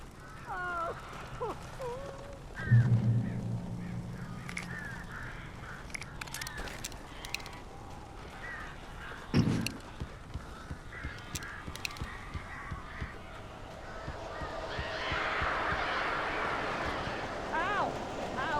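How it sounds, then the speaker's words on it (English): Crows cawing in the Alan Wake video game, their harsh calls repeating over an uneasy backdrop of in-game ambience and scattered thumps, some calls near and others more distant. "These birds are weird."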